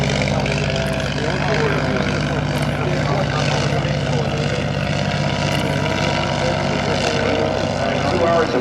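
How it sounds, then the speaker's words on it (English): A 1911 Curtiss Pusher replica aircraft flying at the Naval Air Station Oceana air show, its engine giving a loud, steady, unbroken drone throughout. "Let's fade this music out and let you listen to the Curtiss Pusher."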